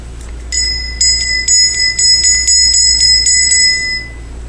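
A small hand bell rings close and loud in a quick run of bright, metallic strikes lasting a few seconds before it stops, with no one talking over it.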